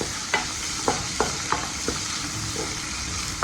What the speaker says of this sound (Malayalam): ഒരു തണ്ട് കറിവേപ്പില ഇതിലേക്ക് ഇട്ട് കൊടുക്കാം. നന്നായിട്ടൊന്ന് വഴങ്ങട്ടെ.